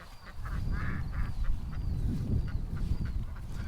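Ducks give repeated alarm quacks toward a bush, a run of short, evenly spaced nasal calls over a steady outdoor rumble, fairly close.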